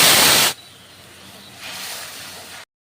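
A water-mixed spice paste poured into a hot pan for potol dorma, with cinnamon and cloves already frying: a loud, sharp hiss for half a second, then a softer sizzle that swells again briefly before cutting off.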